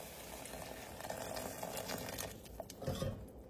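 Hot water is poured into a pan of steaming vegetables for vermicelli upma and sizzles with a soft bubbling hiss that rises and falls. A few faint clinks follow near the end.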